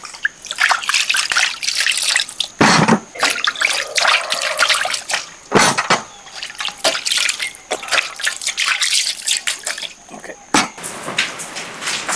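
Beef marrow bones for nalli gravy are rinsed lightly under running water, making close, loud trickling and splashing with irregular drips and sloshes throughout.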